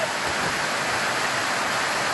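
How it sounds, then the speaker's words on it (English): Rain pours down steadily outdoors, a dense, even hiss with no breaks, fairly loud and close, with no voices over it. "I'll let you listen to the rain and look at the view."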